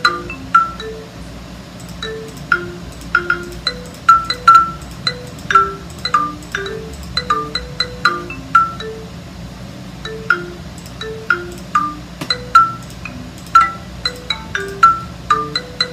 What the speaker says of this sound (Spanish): Este es el sonido de marimba.